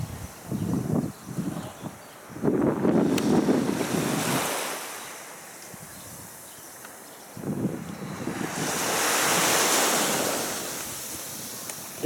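Sea surf washing onto the central beach in Gelendzhik on a May morning, with waves breaking and receding in loud, rolling surges amid wind noise on the microphone and no voices.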